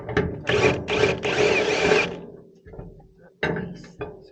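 A socket ratchet working on a trailer hitch, several quick bursts of close, rapid clicking separated by short pauses, loud and alone.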